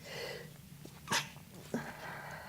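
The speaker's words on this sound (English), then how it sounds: "And I'm going to sneeze." A single sudden human sneeze sounds close and loud in a quiet room, followed by a short breathy catch.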